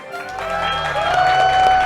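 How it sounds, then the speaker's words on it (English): Audience at a Fastest Furs Live speedrun event applauds, a steady wash of clapping mixed with sustained tonal background sound, loud and continuous for the whole brief stretch. "Maybe a round of applause back there if you have."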